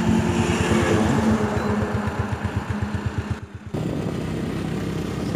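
Yamaha FZ16 motorcycle engine pulling away in first gear, a close, rhythmic pulsing thrum that drops off briefly near the end, then settles into a steady run.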